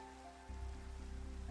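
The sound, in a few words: rain in Minecraft video game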